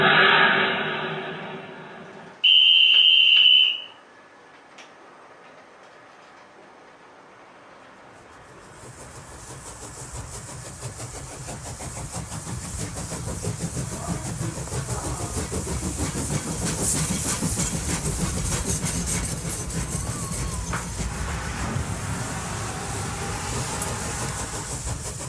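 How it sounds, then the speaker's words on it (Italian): A freight train pulls out of Roma Tiburtina station, its rumble and rolling clatter rising slowly after a brief station chime, growing into a steady broadband roar of wagons passing at moderate distance. "treno merci in partenza"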